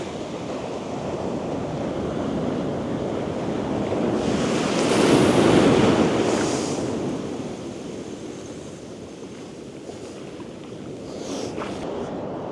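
Waves roll onto a beach at the tide line during winter beach fishing, a continuous roaring surf with wind buffeting the microphone, swelling to a louder break midway before easing off.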